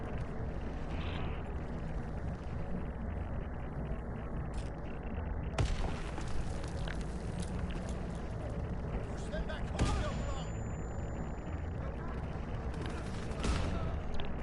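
Shotgun fire in the WW2 Online game, sharp reports over a constant roar of battlefield noise, with someone talking over it.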